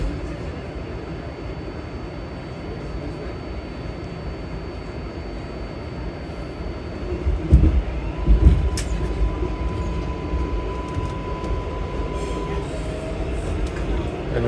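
A Queens-bound 7 local subway train runs with a steady rumbling roar, swelling with a couple of louder clanks and a faint whine midway.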